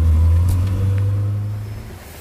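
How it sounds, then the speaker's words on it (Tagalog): A car speeding along a narrow alley at around 120, a loud steady engine drone with a strong low hum that fades slightly toward the end; no voices. "patatakbuhin ko na ng 120 yung sasakyan dito sa Eskinita"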